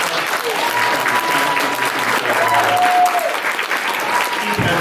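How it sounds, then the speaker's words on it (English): Sustained, dense applause from the audience at a cosplay contest during Cleveland ConCoction 2017, steady and loud throughout with faint crowd murmur underneath. "So give yourselves and everyone else a big round of applause."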